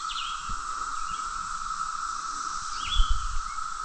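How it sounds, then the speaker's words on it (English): Birds and insects fill remote West Virginia woods during a camping trip: a steady high insect drone persists throughout, with a few distant chirping bird calls and occasional soft low thumps. "Birds and bugs."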